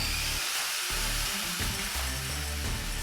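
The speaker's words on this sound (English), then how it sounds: "More angle grinder time." An angle grinder grinds rust off a Miata body panel in a harsh, continuous close-up whine whose pitch and load shift briefly as the disc bites into the metal, heard alone.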